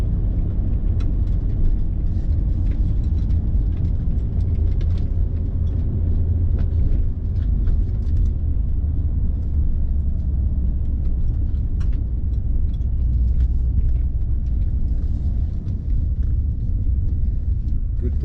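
A 1997 Porsche 911 993 Turbo drives down a street, giving a steady low engine rumble heard from inside with occasional small ticks and clicks.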